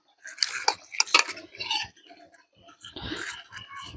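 A spoon mixes semolina into soaked flattened rice in a bowl, making close, irregular scraping and clinking strokes in two bursts with a brief pause between.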